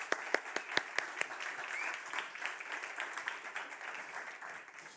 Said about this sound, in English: huge round of applause for JP and his whole team who've made all these brilliant cocktails